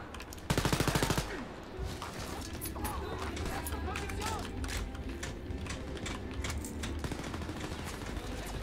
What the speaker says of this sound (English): What is Jess shooting at?